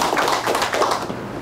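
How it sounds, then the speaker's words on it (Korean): Brief burst of audience applause at a policy forum welcoming a speaker, a short, fairly close patter of many hands clapping that fades after about a second. "박수로 환영해 주시죠."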